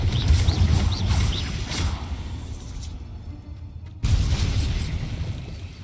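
Confringo, an explosive spell in Hogwarts Legacy, goes off with a sudden burst and a rumbling blast amid ambient game sounds with faint bird chirps; another sharp burst erupts partway through.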